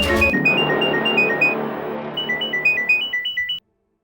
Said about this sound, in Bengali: আসবে ফোন।